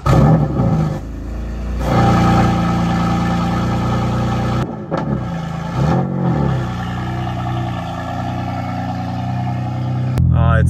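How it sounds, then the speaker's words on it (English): A BMW M4 engine during a cold start: a loud surge as it fires, then a high elevated idle with a couple of brief dips and blips, close and dominant throughout. "M4 cold start."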